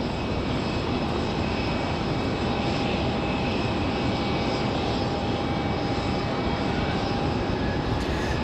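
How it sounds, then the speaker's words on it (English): A United airliner takes off from runway 5 left at Raleigh-Durham International, its engines a loud, continuous roar that holds steady throughout, heard outdoors with no voices. "clear for takeoff, runway 5 left, United 1769"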